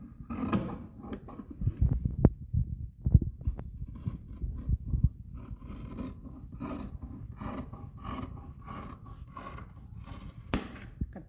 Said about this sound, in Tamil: இது வந்து எக்ஸ்ட்ரா தையலுக்கு விட்டுட்டு கட் பண்ண ஆரம்பிக்கலாம்.